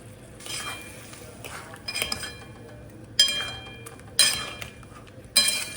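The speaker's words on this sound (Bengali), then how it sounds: "তো এবার মাছগুলো একটা একটা করে এর মধ্যে দিয়ে দেবো।" Pomfret fish pieces set one at a time into a pan of lightly fried spices, giving a few sharp clinks and brief sizzling bursts spaced about a second apart over a low steady frying hiss.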